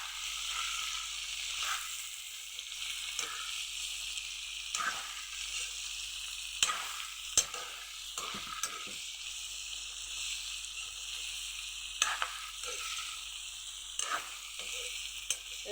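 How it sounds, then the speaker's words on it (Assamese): Pork and taro frying in a pan, a soft continuous sizzle broken by repeated scraping stirs and brief clinks of the spatula, with no talking. "আৰু মাংসটো ভালকৈ মিহলাই দিম।"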